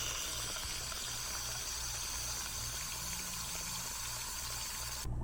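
Water running steadily from a tap into Georgia red clay during the filtering process, a continuous broadband gush that holds at even loudness for several seconds with no talk over it.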